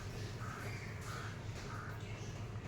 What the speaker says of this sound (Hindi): पक्षी की आवाज़ सुनाई देगी